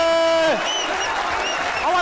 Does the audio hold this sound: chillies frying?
no